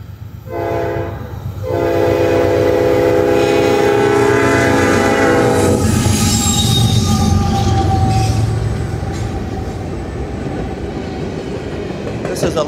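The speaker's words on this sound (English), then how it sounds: "This is a loaded potash train. It's heading north on the Henderson Subdivision." A loaded potash freight train rolls past heading north, opening with a loud multi-tone horn blast, then a steady heavy rumble of wheels and railcars with faint squeals, passing close and staying loud before easing slightly.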